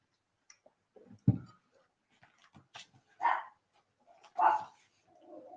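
A dog gives a few short barks and yelps spread over several seconds, fairly close and alone, with quiet pauses between during a living-room quiz night at home.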